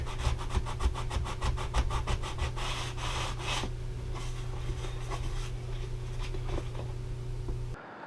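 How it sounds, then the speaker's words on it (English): Hand sanding of a broken wooden kitchen table using a small piece of 220-grit sandpaper: close, steady scratchy rubbing with quick back-and-forth strokes early on, then continuous grinding friction until it stops near the end. "I'm going to hit that with a little bit of sandpaper."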